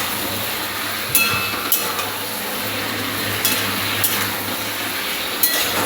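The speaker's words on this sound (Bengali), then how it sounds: "তো ভালো করে নাড়াচাড়া করে আমি একটু ভাজা ভাজা করে নেবো প্রথমে চিকেনটাকে" Chicken stir-frying in a pan over high gas, a continuous close sizzle broken by several sharp scrapes and clinks of a spatula against the metal, no voices.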